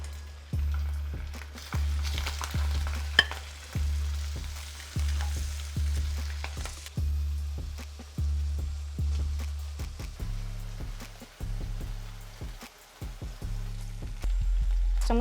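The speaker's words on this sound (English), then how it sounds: "We're gonna go in with our sausages" Sausages fry in hot cooking oil in a pan, a steady close crackling sizzle running throughout, with a low repeating background hum beneath it.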